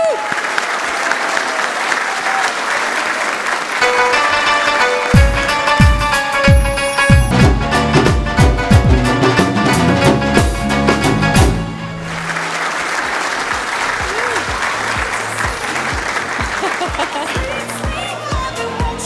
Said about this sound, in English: Round of applause, please, ladies and gentlemen, round of applause.